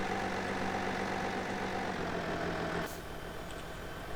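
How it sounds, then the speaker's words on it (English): A small tractor in Farming Simulator 17 runs at a steady low idle-like drone, loud and unbroken, then drops slightly in level near the end. "Yes, that's a tiny tractor."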